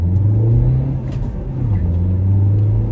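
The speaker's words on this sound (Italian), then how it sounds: "Ma vediamo come va in accelerazione." A Nissan X-Trail 1.6 dCi 2WD Tekna diesel accelerates hard from a standstill, heard from inside the cabin as a loud, steady engine drone whose pitch dips and then climbs again as it pulls through the gears.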